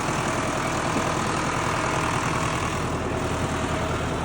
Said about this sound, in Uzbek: Traktorda o'zi yurib ketyapti.